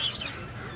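Birds at a zoo aviary during feeding time, a few sharp high squawks and chirps at the start that fade into soft background rustle and murmur.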